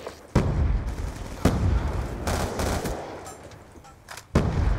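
Loud battlefield gunfire and explosive booms from the video game Call of Duty Black Ops, with several sharp blasts at irregular intervals amid continuous rumbling combat noise.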